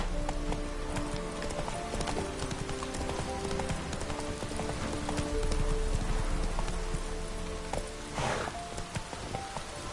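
Roach the horse gallops in The Witcher 3, a rapid run of hoofbeats over a steady rain-like hiss of ambience, with a louder swell near the end.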